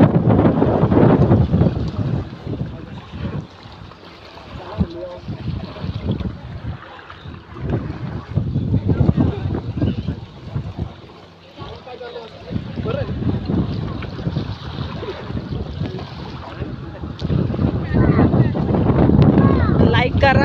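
A boat moves on the water of a dam reservoir as waves lap. Gusty wind buffets the microphone throughout, a rumbling wash rises and falls, and voices can be heard faintly.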